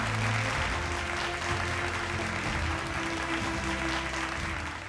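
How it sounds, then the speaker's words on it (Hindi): A crowd at a green energy conclave applauds loudly and continuously, a broad dense roar of clapping with a low hum beneath, fading slightly at the end. "एक बार ज़ोरदार तालियां"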